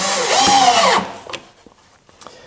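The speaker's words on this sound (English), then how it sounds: "I'm using these 1 1/4 inch screws. They just barely, they just do fit. I got to be careful that I don't drive them through too far." A power drill drives a screw into twisty deck wood for a garden gate, with one loud whirring burst winding down after about a second, then a few faint knocks and handling sounds.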